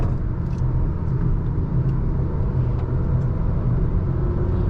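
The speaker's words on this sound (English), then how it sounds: "Some louder wind noise on the highway" Steady broadband wind and road roar inside a 2023 Acura TLX Type S at highway speed, a constant low rumble with airy hiss, no break or change across the stretch.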